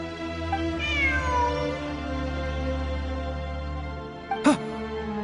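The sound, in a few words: cat meowing in a video game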